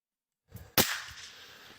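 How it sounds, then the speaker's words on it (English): A single sharp gunshot cracks out from a Ukrainian position in a tree line, loud and close, following a couple of faint low thumps and trailing off in a long echoing decay. "We see the Ukrainians in the tree line taking a couple of pot shots."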